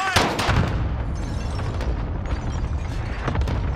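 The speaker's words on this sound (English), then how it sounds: "I'm taking fire!" Incoming gunfire and explosions in the shooter game Call of Duty: Modern Warfare, a loud, dense barrage of cracks and booms running continuously throughout, with sharper bursts standing out near the start and end.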